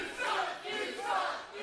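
Indoor independent wrestling crowd in Chester, South Carolina yells and jeers at a wrestler, a sustained roar of many voices swelling in two waves without clear speech.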